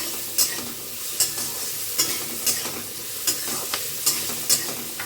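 Potatoes fry in a pan and are stirred at a steady rhythm, with a scraping stroke roughly every second over a constant close sizzle and no voices.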